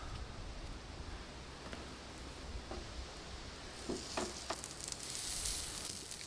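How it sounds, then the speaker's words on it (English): Pork and bacon searing in a pan, a quiet, steady crackling sizzle with scattered pops that grow a bit busier near the end, close by with no voices. "Still get that fantastic sear because that pork fat renders out."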